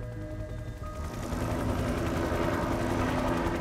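A search-and-rescue helicopter's rotor thumps and engine drone grow louder as it passes close overhead in snowy backcountry, the rhythmic chopping steady throughout.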